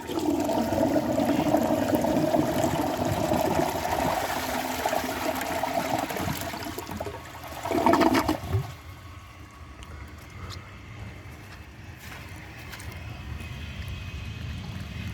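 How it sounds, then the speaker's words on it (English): Flush of a 1983 Universal Rundle Atlas toilet outdoors, a steady rushing gurgle of water for several seconds that swells into a short loud suck-down near the end, then fades to quiet outdoor background. "the flush on this kind of just goes up and fills the bowl a little bit, and then at the end it all sucks down"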